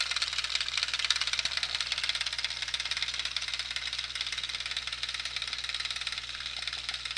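Handmade 1/5 scale model tunnel ram engine idling with a fast, even mechanical ticking hum, steady and fairly quiet throughout.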